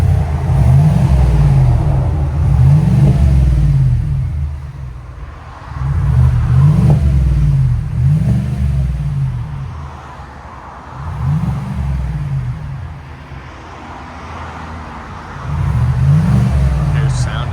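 2024 GMC Yukon AT4 with a 5.3L V8 and Borla ProXS exhaust, several repeated loud revs that rise and fall in deep swells, each surge separated by a quieter idle between.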